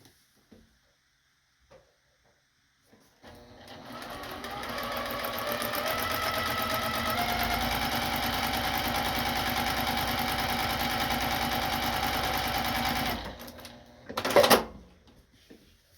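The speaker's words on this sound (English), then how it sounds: "I'm going to take this to the sewing machine and sew through that sew line" A sewing machine stitches quilt fabric along a marked sew line, starting after a few soft clicks and running in a steady continuous whir for about ten seconds, then stopping with a brief louder clatter.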